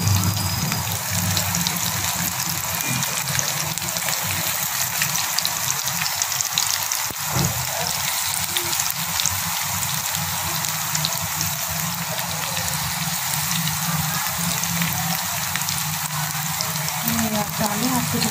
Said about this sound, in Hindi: ये हम शैलो फ्राई कर रहे हैं